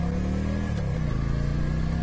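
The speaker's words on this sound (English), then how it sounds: "this bike with that big pipe, when it's idling, it has that real boop, boop, boop, boop, boop sound to it" A motorcycle, a Yamaha Virago with a big exhaust pipe, idles with a deep, steady throbbing rumble, close and continuous with no talk.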